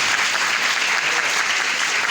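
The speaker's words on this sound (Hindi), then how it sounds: "मैं चाहता हूँ जोरदार तालियों के साथ इन्हें भी खुश आमदीद करें" An audience claps loudly and steadily throughout, a dense sustained patter of many hands welcoming a guest at a gathering, with no pauses.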